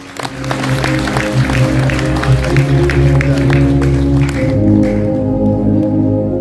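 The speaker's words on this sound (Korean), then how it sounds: "여러분 다시 한번 큰 박수 모시겠습니다." A crowd at a book concert in Daegu claps for an author taking the stage, a sustained wash of applause under a steady low musical tone that tapers off near the end; no talking.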